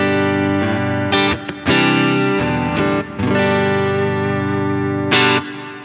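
Sustained electric guitar chords ring through a warm, reverb-drenched Deluxe Reverb amp tone, with brief breaks between strums and no voices.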